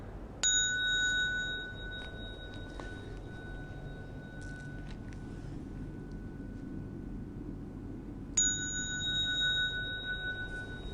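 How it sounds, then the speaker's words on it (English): A small bell used in Buddhist bowing etiquette rings twice, each a clear bright strike with a lingering ring, about eight seconds apart in a quiet room. "Then you wait for the next bell."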